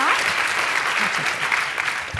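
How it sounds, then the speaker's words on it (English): Steady clapping from a room full of people after a conference keynote, dense and continuous, with a few voices murmuring underneath. "Round of applause for Aimie, please, everyone."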